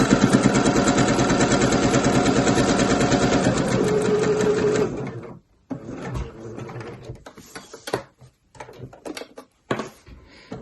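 A sewing machine stitches a seam on a kid's tote bag, running in a fast continuous burst for about five seconds, then stopping before quieter handling noises and short clicks follow.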